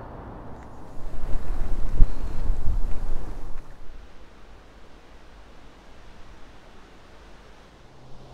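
Strong wind outdoors along the Lippe river in Germany roars and buffets against the microphone for a few seconds, then drops to a softer, steady rushing hiss.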